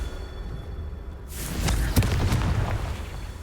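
A fire spell explosion in the Hogwarts Legacy video game bursts out abruptly after a quiet lead-in, a loud broad whoosh and boom with crackling fiery debris trailing off over the next few seconds.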